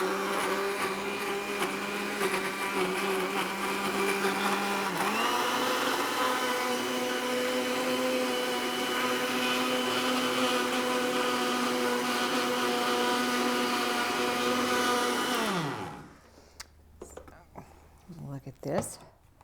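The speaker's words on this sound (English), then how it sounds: "This is kind of a new blender, so I need to make sure that it's doing good." A brand-new blender whirs steadily while blending a bread-soaking mixture for toast, a loud continuous motor drone that steps up in pitch partway through, then winds down and stops, followed by a few faint clatters.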